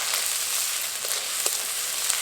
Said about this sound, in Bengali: আদা রসুন বাটা পেঁয়াজের সাথে ভালোভাবে নেড়ে নেব।